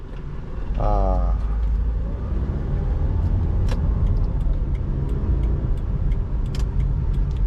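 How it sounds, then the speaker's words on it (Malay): Steady engine and road rumble from inside a moving 2006 Perodua Myvi 1.3 EZ automatic on a test drive, with a voice speaking briefly near the start. "sekarang I test drive bagi customer tengok ini kereta condition macam mana"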